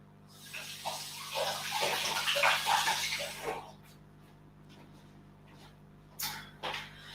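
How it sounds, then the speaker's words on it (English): Hands are rinsed under a running tap in a kitchen during pastry making, a close, steady splashing stream that lasts a few seconds, then stops, followed by faint handling clicks. "I'm just going to rinse my hands."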